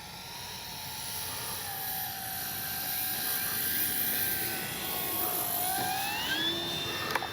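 An RC P-51D warbird model plane, 1600mm span, flies in with gear down to land, its engine a steady droning whine at moderate distance, pitch gliding and shifting as it passes.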